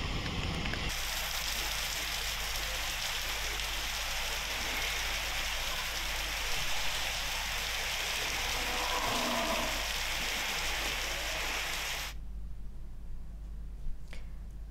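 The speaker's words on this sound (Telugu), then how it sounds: "గంట సేపటి నుంచి కూడా వర్షం కురుస్తూనే ఉంది" Heavy rain falling in Hyderabad, a steady hiss of downpour heard fairly faintly and continuously, softening near the end, with no one talking.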